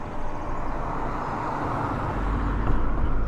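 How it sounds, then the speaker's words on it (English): Steady car traffic rumbles across a road bridge over the river near a weir at Offord, a continuous, fairly loud wash of passing vehicles that swells slightly toward the end. "I'm on the road bridge, so we're going to get a bit of car noise"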